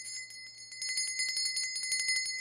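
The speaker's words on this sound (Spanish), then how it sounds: "tener una campana que suene bonito como esta les" A sweet-toned bell rings repeatedly in quick, bright strikes over a low steady hum, its tones sustained and overlapping, close and clear with no talking.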